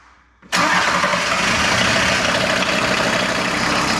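A VW T4 van's engine cranks and catches about half a second in, then settles into a loud, steady idle close by with no talking.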